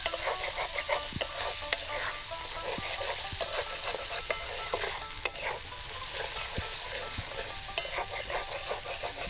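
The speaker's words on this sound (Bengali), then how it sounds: "এইভাবে এবার কষে নেবো ভালো করে" Spice paste with salt sizzles and fries in a pan for a fish curry, a steady soft hiss punctuated by scraping stirs and light clinks of a spoon, with no talking.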